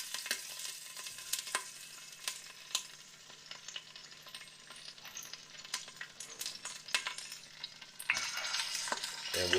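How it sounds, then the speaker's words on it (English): Oxtails laid into hot oil in a pot for braising, crackling and sizzling steadily with sharp pops and spits, close and moderately loud, intensifying toward the end. "you hear that? The oil's hot in there."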